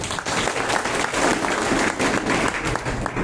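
A crowd bursts into loud, sustained applause honouring a company CMD, many hands clapping in a dense, even wash throughout with no voices over it.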